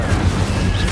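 A fiery Incendio spell blast in the Hogwarts Legacy video game, a steady loud rumbling burst of flame that fills the short moment without a break.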